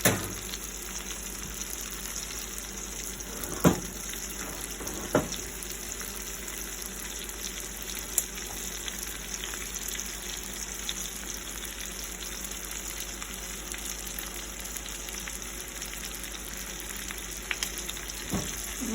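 Pork frying in a mix of butter and olive oil sizzles steadily for a long stretch, with faint pops and a few soft knocks from the pan, and no talking.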